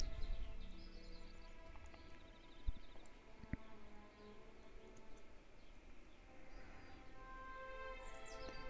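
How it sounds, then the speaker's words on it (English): Birds chirping and singing faintly in the background outdoors, scattered soft tweets over a quiet, low hum. "you can probably hear birds in the background right now."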